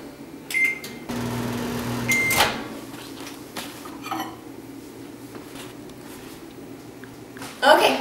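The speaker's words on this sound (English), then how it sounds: "we're just going to throw it in the microwave" A microwave oven hums steadily between beeps while melting butter, with clattering dishes, a door thud and kitchen handling noises around it.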